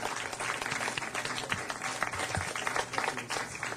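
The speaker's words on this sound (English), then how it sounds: "let's give them a round of applause." Applause at a city council meeting, a steady crowd clapping at moderate volume for a few seconds, somewhat distant and diffuse.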